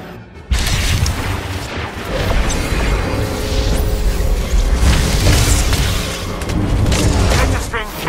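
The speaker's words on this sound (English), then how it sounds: "They're firing on us." A Star Wars battle on Alderaan in a video game, with dense booming explosions and gunfire rumbling continuously over a loud battle din, while voices talk over the action.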